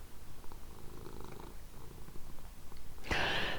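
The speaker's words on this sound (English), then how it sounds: "This orange purr monster is Samson." An orange cat named Samson purrs steadily and close up in a soft, continuous rumble, with a brief louder rustle or movement near the end.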